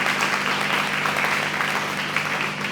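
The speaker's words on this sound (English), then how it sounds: "Give her a round of applause" Steady audience applause fills the hall at a county fair queen pageant, a dense, even wash of clapping that holds at constant loudness throughout with no voices over it.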